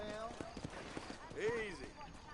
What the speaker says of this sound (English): I will hitch mine horse.